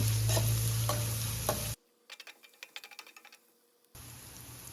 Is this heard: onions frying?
yes